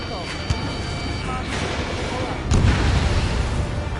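Missile explosion destroying a target in the aerial combat video game Ace Combat, a sudden loud boom with a thick rumbling tail over dense game sound, radio chatter and a sharp earlier pop.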